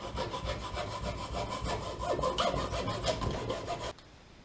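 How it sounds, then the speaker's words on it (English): A hand saw cuts through the reel seat of a fishing rod clamped in a vise, giving steady back-and-forth rasping strokes, close and fairly quiet, that stop abruptly near the end. "You want to slice through the reel seat."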